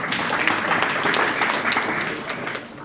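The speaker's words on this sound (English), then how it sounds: "Please help me put your hands together for the organizers of this event." An audience at a WordPress career talk applauds the event organizers. The dense clapping is fairly loud and close, holds steady, then eases slightly toward the end.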